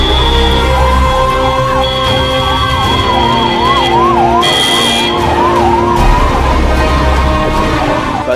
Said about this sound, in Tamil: சினிமா பட பாணியில் உடல் உறுப்பை எடுத்துக்கொண்டு மின்னல் வேகத்தில் பறந்த ஆம்புலன்ஸ்.